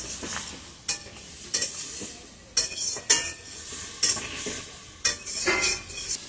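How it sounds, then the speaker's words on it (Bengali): Spice paste of chili powder, ginger paste and a splash of water sautéed for a potato curry, with a spatula scraping and stirring the pan in repeated strokes about every second over a steady close sizzle. "মশলাটাকে ভালো করে কষিয়ে নেব।"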